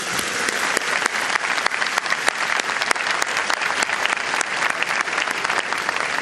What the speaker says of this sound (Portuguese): Acho que vale a pena uma salva de palmas.